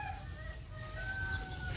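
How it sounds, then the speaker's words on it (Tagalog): A rooster calls faintly in the background, a thin drawn-out crow over low rumbling ambient noise, with no voices. "Meron na akong tandang."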